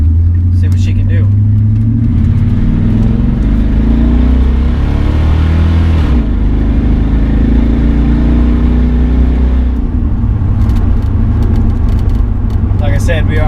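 Modified 1998 GMC Sierra SLT pickup accelerating hard on an open road in Mexico, its loud, deep engine roar climbing through gears for over thirteen seconds, with a brief dip mid-run, and voices talking over it.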